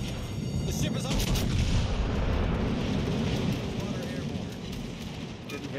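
Warship secondary guns firing in World of Warships Legends, a dense, continuous barrage of booming shots and bursts over a steady low rumble, loud throughout.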